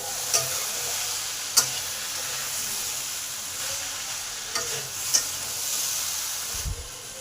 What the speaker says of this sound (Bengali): মশলাটা ভালোভাবে কষা হয়ে গেছে।